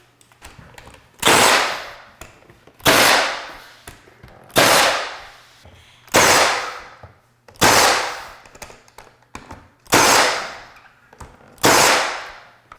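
Seven loud, close pneumatic nail gun shots, evenly spaced about a second and a half apart, drive cove trim through into wainscot rails and stiles. Each sharp crack decays quickly into a short ringing tail.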